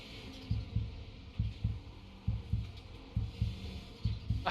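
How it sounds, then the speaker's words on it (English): A race car driver's heartbeat from the cockpit of an Audi 90 GTO sim race at Laguna Seca, steady paired lub-dub thumps repeating about once per second, low and fairly loud over a faint background hum. "See if we can get a heartbeat on him here."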